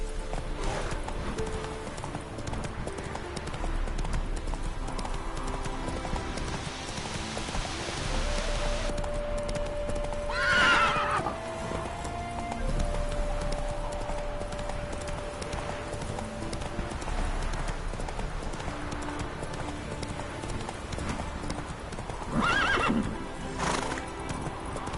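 Roach the horse in The Witcher 3: rhythmic hoofbeats at a gallop run throughout, broken by two loud, close neighs, with a light rain-like hiss underneath.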